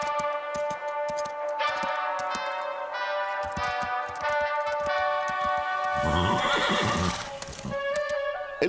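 Cartoon horses whinny and neigh over steady clip-clopping hooves, with bright music playing throughout and a busier burst of hoof and movement noise near the end; no one speaks.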